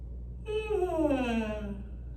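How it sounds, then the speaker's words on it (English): A single drawn-out yawn rises and then slides downward into a breathy sigh, heard on its own close to the microphone. "Apparently my body decided to yawn there."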